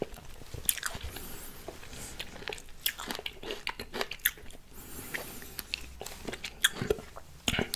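Someone chewing Thai mixed pickled fruits up close, with repeated wet bites and crunches in an irregular rhythm, soft and intimate, with no talking.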